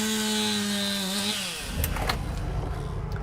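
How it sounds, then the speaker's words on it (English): A chainsaw roars while tornado damage is cleared, a steady loud engine drone that drops into a rougher cutting buzz with scraping and clatter, with no voices. "the roar of the storm has been replaced by the buzz of chainsaws"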